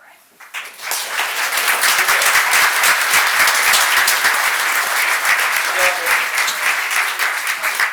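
A council meeting audience breaks into loud, sustained applause after a brief quiet start, dense clapping filling the room steadily to the end.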